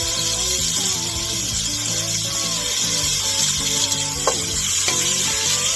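Small pieces of bacon frying in a pot give a steady, close sizzle and crackle that runs unbroken throughout, with no talking.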